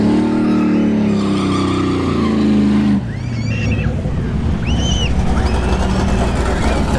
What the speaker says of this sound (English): Vega wagon, nitrous.